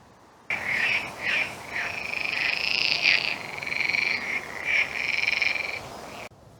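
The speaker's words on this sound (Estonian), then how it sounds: "konnad ka elavad head elu. Et konnakoor käib." A chorus of frogs croaks at a lake along the Poldrijärve hiking trail in Estonia, a dense, continuous trilling with rising and falling waves, loud and close, with no talking.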